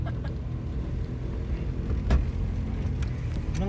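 A car rolls by outside a home garage, a low steady engine rumble with a soft whoosh swelling near the middle, fairly faint and with no talk over it.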